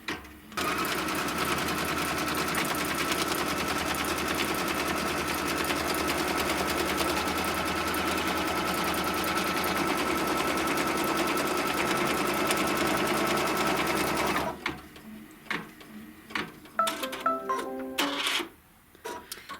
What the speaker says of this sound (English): then it's going to stitch the tack down